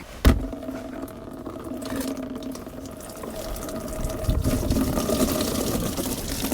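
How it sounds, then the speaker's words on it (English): Brown coolant mixed with oil draining out of a car's cooling system, a steady close stream of liquid pouring and splashing after a sharp knock at the start, with no talking. "All right, let's drain this out."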